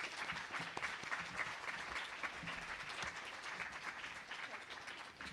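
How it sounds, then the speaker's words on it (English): Audience applause for a plenary conference panel, a continuous, fairly faint wash of many hands clapping that holds steady throughout, with no voices standing out. "let's give them a round of applause"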